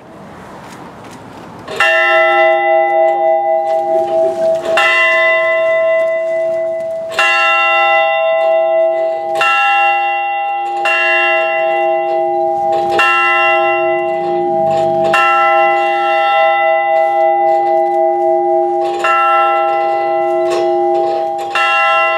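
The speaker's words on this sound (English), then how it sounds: "we'll line up for the bell" A large ceremonial bell tolls at an Armistice Day ceremony, the bell once restored by a veterans' post; loud, ringing strokes repeat every two to three seconds, each leaving a long sustained hum that overlaps the next.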